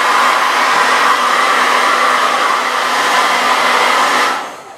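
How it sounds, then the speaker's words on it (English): A hairdryer blows hot air onto a Triumph motorcycle fuel tank, giving a loud, steady whooshing hum with a faint whine that runs continuously and then cuts off at the end. "The old hairdryer on it, that's what it needs to be."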